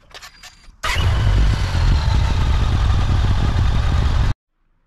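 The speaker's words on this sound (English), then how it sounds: "Now that we've had the bike running for 15-20 seconds, we're going to top up the oil tank." Yamaha Stratoliner motorcycle engine running after an oil and filter change, a loud, steady rumble that starts abruptly, holds for a few seconds and then cuts off sharply.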